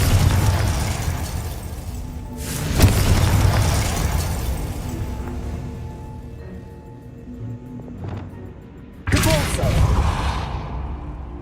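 A fiery blast spell from Hogwarts Legacy sets off two loud, booming bursts several seconds apart, each with a broad whooshing roar. Quieter game sounds and music fill the space between them, and a voice talks softly in the background.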